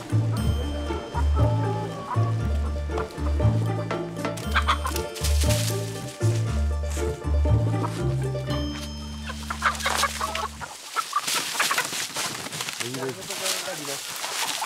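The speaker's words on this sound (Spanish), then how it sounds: "Este hombre transporta casi 100 pollos por día" Nearly a hundred chickens being carried for sale at a border crossing cluck and squawk in a close, busy chorus, while a voice talks over them and other noises build toward the end.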